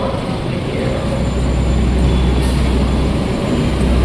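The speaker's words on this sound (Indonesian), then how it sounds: "kereta Saunggali berangkat" Saunggali passenger train pulling away from a station platform, a steady, loud low rumble and rolling rail noise that holds evenly throughout with no voices.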